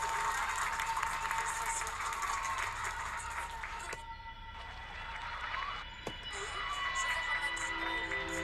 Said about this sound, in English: Je vous demande d'applaudir Marie Durand.